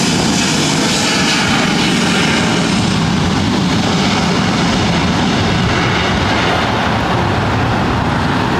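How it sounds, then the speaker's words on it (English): Southwest Airlines Boeing 737-700 jet taking off from LAX, a loud, steady broadband engine roar that holds strong for the whole stretch, close and unbroken, with no talk over it. "This is Southwest Airlines 1872 taking off to Oakland on a 737-700"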